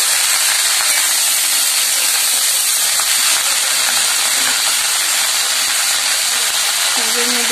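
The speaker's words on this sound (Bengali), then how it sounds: "এবার শাকটা দিয়ে দিলাম, ভালো করে ভেজে নিচ্ছি শাকটা" Leafy greens frying with garlic in a pan, a loud continuous broadband hiss and sizzle that holds steady from start to finish, with a faint voice and a brief tonal sound near the end.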